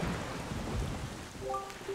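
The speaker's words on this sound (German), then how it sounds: "hier hängen diese schwarzen Wolken und es regnet unaufhörlich" Steady rain falls on a cursed island under black clouds in The Legend of Zelda: The Wind Waker HD, a constant hiss of drops with a brief soft tonal chime near the end.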